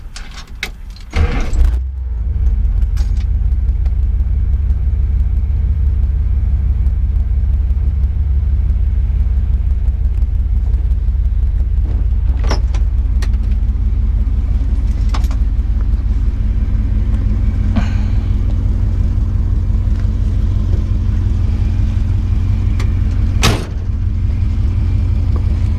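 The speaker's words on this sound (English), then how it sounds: "Alright, so I'll just start the engine up." A 1964 Dodge Custom 880 engine cranks over with a brief clatter at the start, then settles into a steady, low rumbling idle that runs nearby without a break for the rest of the stretch.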